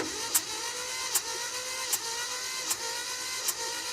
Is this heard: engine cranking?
yes